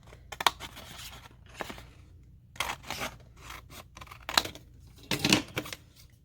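Scissors snipping card paper loose for a handmade expanding card, a few short crisp cutting bursts and rustles close to the microphone, quiet, with no talk.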